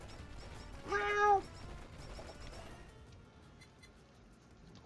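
A cat meows once, clear and fairly close, in the HoloCure video game, followed by quiet background game noise with no talking.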